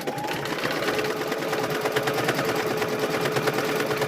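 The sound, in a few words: sewing machine doing a satin stitch on quilt squares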